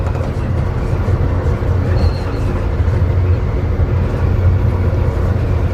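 Passenger train on the Chicago to Los Angeles run, heard from the back end of the train as a loud, steady rumble of rolling wheels and track noise, continuous throughout.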